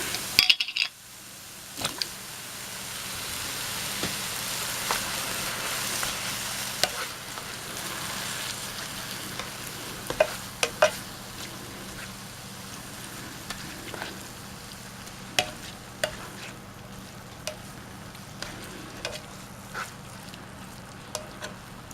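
Beef taco filling sizzles in a pan, a steady close frying hiss punctuated by sharp clicks and scrapes of a utensil stirring against the pan, with no talk.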